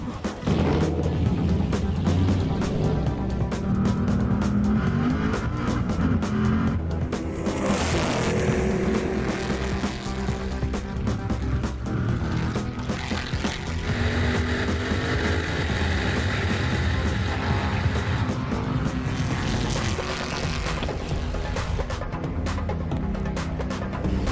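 A race car drives fast around a track, its loud engine roaring continuously with pitch rising and falling through gear changes and corners, close and sustained.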